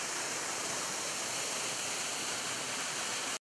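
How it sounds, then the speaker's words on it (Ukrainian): A waterfall in Zakarpattia, a spot recommended for cyclists, gives a steady, dense roar of falling water that stays even and close throughout with no voices. "зверніть увагу на цей водоспад"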